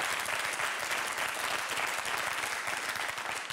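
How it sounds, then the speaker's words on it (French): A live audience in a French television studio breaks into steady, dense applause, continuous and fairly loud throughout, with no break in the clapping. "Je sais pas comment je dois prendre le fait que vous applaudissez"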